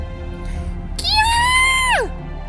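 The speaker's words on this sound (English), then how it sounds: "It was a woman's scream for sure." A woman's scream rises sharply and holds for about a second before trailing off, clear and loud against a faint low background, in the video game Fate/Grand Order.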